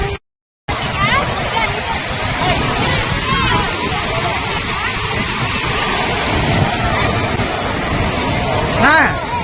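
Sea waves wash and splash steadily at a beach while students play in the water, their voices and shouts mixed loudly over the surf.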